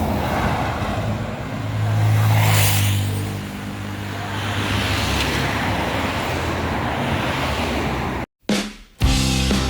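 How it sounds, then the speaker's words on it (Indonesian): An intercity bus of the Gumarang Jaya line pulls away from a roadside departure point in West Sumatra, its engine rumbling steadily and swelling as it moves off, with traffic noise around it and a brief cutout near the end. "ini yang berangkat selanjutnya unit Gumarang Jaya ini dengan kelas Maunjua kelas."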